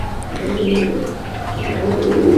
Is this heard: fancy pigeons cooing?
yes